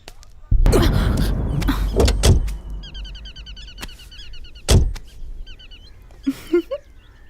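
Car scene in a Hindi-dubbed horror film: a door thuds and a vehicle rumbles, with sharp knocks and bursts of chirping birdsong over a low engine drone, the sound swelling midway then fading.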